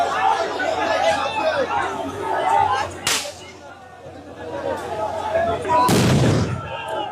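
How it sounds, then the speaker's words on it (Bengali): Police sound grenades bursting at a street protest: two loud, sharp blasts about three seconds apart, the second heavier, over steady crowd chatter and commotion. "দর্শক আরেকটি সাউন্ড গ্রেনেড নিক্ষেপ করা হয়েছে।"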